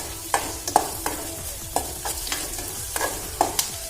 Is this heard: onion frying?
yes